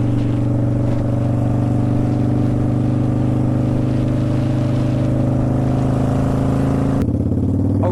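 A Kawasaki Vulcan 800 motorcycle engine drones steadily and loudly while riding, with a low rumbling hum and a shift in pitch near the end.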